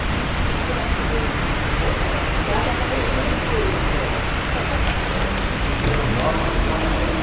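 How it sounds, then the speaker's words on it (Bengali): Rain falls in a steady, dense wash of broadband noise on a street in Tanah Rata in the Cameron Highlands, filling the whole span at an even level with no clear talking. "বাট বৃষ্টি এসে গেছে।"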